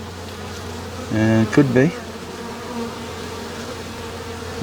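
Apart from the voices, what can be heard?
swarm of honey bees buzzing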